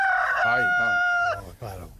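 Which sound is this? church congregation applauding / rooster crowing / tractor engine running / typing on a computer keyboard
rooster crowing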